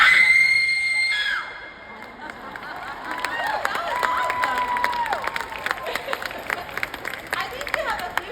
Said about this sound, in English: give us your very best, most hair-raising, blood-curdling horror movie scream